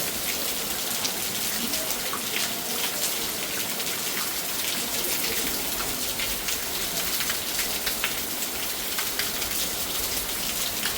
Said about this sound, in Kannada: ಮಳೆ ನೋಡಿ ಹೆಂಗ್ ಬರ್ತಿದೆ